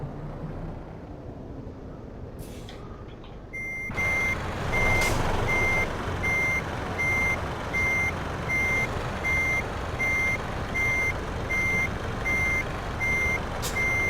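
A truck in the game Euro Truck Simulator 2 sounds its reversing alarm, a loud regular beep repeating about once a second over a steady engine hum that begins a few seconds in.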